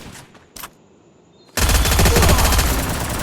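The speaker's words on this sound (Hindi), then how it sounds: "सामने से बंदा गोली चला रहा है" Gunfire in the video game Free Fire erupts as a loud, continuous automatic burst after a couple of brief faint shots, dense and sustained to the end.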